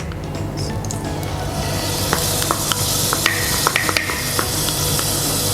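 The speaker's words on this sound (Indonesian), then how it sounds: "minyaknya udah panas. Kita tinggal masukin bumbu untuk menumisnya guys." Spice paste blended for nasi uduk hits hot oil in a home kitchen and sizzles loudly and steadily, with scattered clinks and stirring scrapes from a utensil against the pan.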